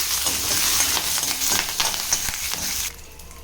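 Green chillies and curry leaves frying in hot oil for a Tamil-style korada chutney, a steady close crackling sizzle with stirring scrapes that drops away abruptly near the end.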